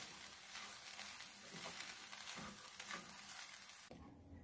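Tomato rice topped with coriander leaves is stirred in a pan, a close, continuous rustling scrape and faint sizzle that runs steadily for a few seconds before cutting off abruptly.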